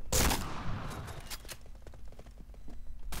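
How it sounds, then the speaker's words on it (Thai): Several close, loud shots from a K2 rifle in the first-person shooter Point Blank, a dense burst up front followed by scattered sharper cracks and quieter clicks, with no talking. "ปืนแรกนะฮะนั่นคือปืน K2 นั่นเองนะครับ"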